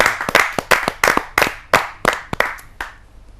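Audience at a Hindi kavi sammelan clapping to welcome poet Vinita Goyal from Hisar: a series of sharp, loud bursts of handclaps in quick succession, fading out toward the end.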